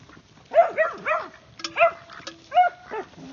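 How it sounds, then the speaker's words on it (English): A dog barks outdoors on a sunny day after a snowstorm, letting out several short, close barks in uneven bursts with brief pauses between them. "I hear you, dog."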